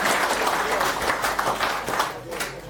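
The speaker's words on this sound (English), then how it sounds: "Round of applause, please." Audience applause after a speaker is introduced at a technical talk, a dense steady wash of many hands clapping, moderately loud and close, fading slightly toward the end.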